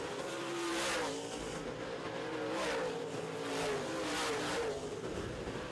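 Modified stock race cars roar around a track during a feature race, engines droning and rising in waves as the pack passes, loud and steady with no talk.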